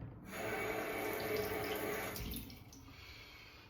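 Water runs steadily from a tap for a few seconds, a close hissing splash that thins out toward the end.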